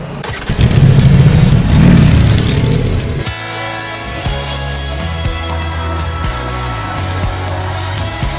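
A 2020 Harley-Davidson Electra Glide Standard (FLHT) motorcycle engine: a loud, close roar that rises and falls for about three seconds, then settles into a steadier, lower running note.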